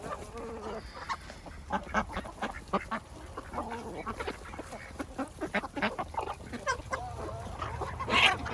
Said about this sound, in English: All these chickens stuffed in here when I went to go lock the other chickens up for the night.